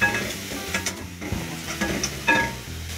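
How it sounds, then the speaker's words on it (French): Steak, tomatoes, onions, garlic, salt and pepper are mashed and stirred in a sizzling frying pan, with scraping and clacking strokes at an uneven rhythm, close and moderately quiet. "J'écrase bien et je mélange avec les tomates, les oignons, l'ail, le sel, le poivre"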